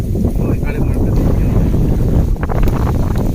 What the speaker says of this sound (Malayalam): നല്ല കാറ്റും മഴയും വരുന്നുണ്ട്